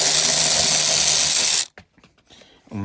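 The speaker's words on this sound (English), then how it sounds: "Just take your 10 millimeter and start taking out the bolts here." A 10 mm socket wrench backs out inner fender bolts on a Honda Civic, a loud continuous ratcheting whir up close that stops abruptly, followed by a few faint clicks and handling noises.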